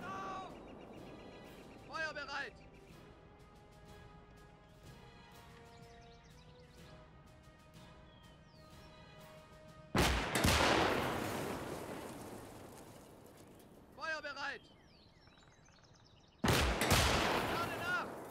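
Artillery grenades fired in the WWII game Gates of Hell: two heavy booming shots several seconds apart, each with a long rumbling tail, set against quiet battlefield ambience with faint distant pops.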